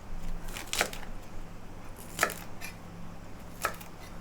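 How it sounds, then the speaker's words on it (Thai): Three sharp knife chops through water spinach on a cutting board, spaced about a second and a half apart, close and crisp over quiet kitchen hum. "เดี๋ยวเราจะมาหั่นผักบุ้งก่อนนะคะ"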